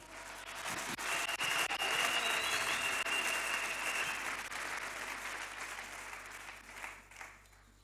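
A church congregation bursts into sustained applause for the Lord, a broad wash of many hands clapping that swells, holds, then tapers off toward the end.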